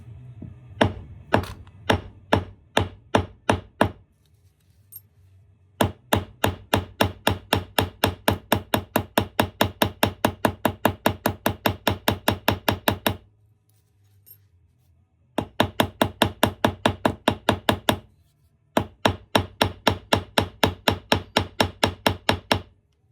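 A ball peen hammer pounds on a metal blade at a workbench, striking in fast, steady runs of sharp ringing blows, loud and close, broken by short pauses between bursts.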